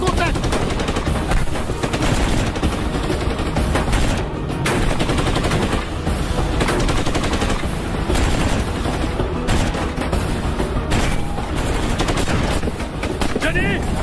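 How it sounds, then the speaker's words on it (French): Machine gun fire in a French-language action film set in the desert, a loud, relentless stream of rapid shots with heavy low-end rumble continuing without pause across the whole stretch. "c'est la mitrailleuse qui nous tire dessus!"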